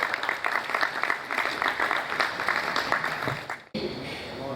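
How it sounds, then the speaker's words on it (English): Audience applause at a business roundtable on construction, steady dense clapping filling the room for several seconds before cutting off abruptly, followed by a quieter moment with faint murmur. "Please clap for him."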